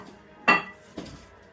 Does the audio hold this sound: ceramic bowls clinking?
yes